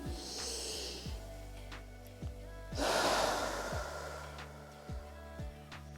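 An inhaled breath during a stretching exercise, lying on the left side with knees bent up; a clear, fairly loud airy intake swells for about a second under a steady background of soft music.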